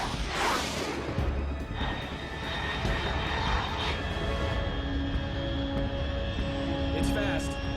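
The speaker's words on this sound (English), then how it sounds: "Unidentified aircraft detected." An aircraft drones overhead in Metal Gear Solid 3. A sustained engine hum carries tonal whine lines and whooshing swells, with talk layered over it.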